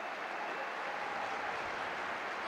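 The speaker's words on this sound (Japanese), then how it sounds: "武藤も拍手を送ります" A football stadium crowd applauds after a goal in an AFC Champions League play-off between Vissel Kobe and Melbourne Victory, a steady, distant wash of clapping and crowd noise.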